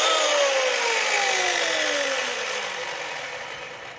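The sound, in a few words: electric chainsaw starting and running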